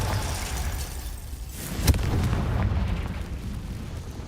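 A Confringo fire spell cast in Hogwarts Legacy detonates with a single sharp blast midway, preceded and followed by a low rumbling roar that lingers at steady volume.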